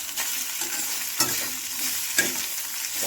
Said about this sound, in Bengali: এবার নাড়াবো, পুরোটা ভালো করে মিশিয়ে নেব।